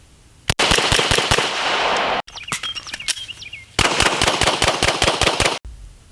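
Rapid 9mm pistol shots fired with Nevada Ammunition 115 grain remanufactured rounds, two loud strings of sharp reports separated by a short pause in which birds chirp, no talking.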